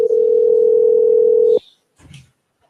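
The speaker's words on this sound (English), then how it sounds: "I think it's Mike's turn to do a call" A steady, loud telephone dial tone hums unbroken for about a second and a half as a call is placed, then cuts off abruptly, leaving a brief faint rustle and quiet.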